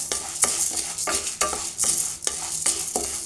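Urad dal dry-roasts in a bare kadai with rhythmic scraping stirs over a constant rustling hiss, each stroke a distinct close swish at about one per half second.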